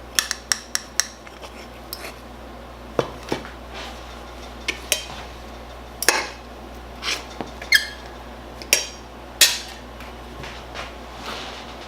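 Cutlery cutting pancakes on a plate: sharp clinks and scrapes of metal on crockery in irregular bursts, close and clear, with no talking.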